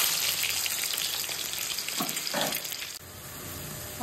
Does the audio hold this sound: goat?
no